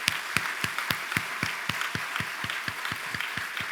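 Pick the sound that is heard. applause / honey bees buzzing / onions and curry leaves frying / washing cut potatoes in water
applause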